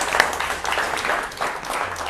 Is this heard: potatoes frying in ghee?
no